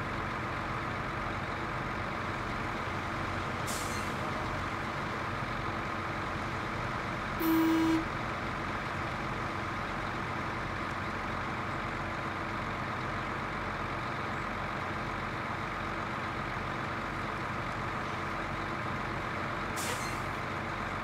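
A heavy truck in the Snowrunner game idles with a steady engine drone, and a few short hisses of released air brake cut in at intervals. A brief tonal beep sounds once near the middle.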